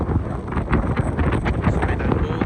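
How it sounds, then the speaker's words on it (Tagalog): Strong wind gusts by the sea in the evening in Bermuda, buffeting the microphone in loud, rough rumbling bursts with gusty rhythm throughout. "Maraming hangin kalakas."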